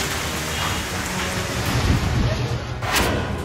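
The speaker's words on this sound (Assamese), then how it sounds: "নিশা প্ৰচণ্ড ধুমুহাই কোবাই গ'ল ধাৰাপুৰ" A violent night storm in Dharapur lashes down heavy rain in a dense, loud roar, with gusts of wind and rumbles of thunder swelling near the end.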